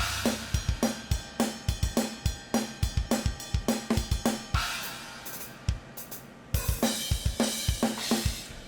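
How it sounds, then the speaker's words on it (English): A programmed J-rock drum beat with regular kick and snare hits, crash cymbals washing over the pattern at accents, a brief pause, then the groove resumes. "Crashes are very important for like having that oomph when you want to emphasize something"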